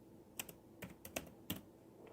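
A computer keyboard is tapped in a few scattered, quiet keystrokes at close range, with gaps between presses while text is entered for a Cricut nursery sign.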